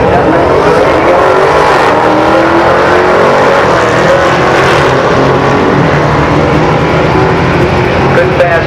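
Drag race cars make a quarter-mile run at Maple Grove Raceway, engines roaring loudly and continuously as they accelerate, with a voice talking over the engine noise.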